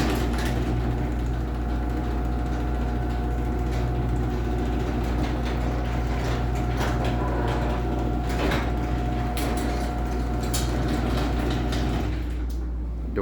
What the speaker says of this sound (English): Door's pretty loud on this one